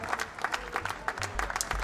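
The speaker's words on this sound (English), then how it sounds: "There's Brian's fiancée Sonia in the audience cheering him on." Audience at a World Poker Tour tournament applauding and cheering, a steady patter of claps with scattered bursts throughout, moderately close and unaccompanied by talk.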